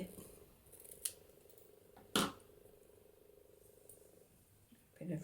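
Scissors cut card for a Christmas card, giving a few crisp snips with a sharp loud one in the middle. A soft faint rasp runs between them in a quiet room.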